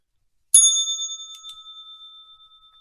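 A single bright bell strike opens a futures trading session, its clear metallic tone ringing out alone and fading slowly over a couple of seconds.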